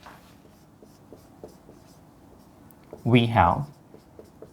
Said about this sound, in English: So let me write the given function first.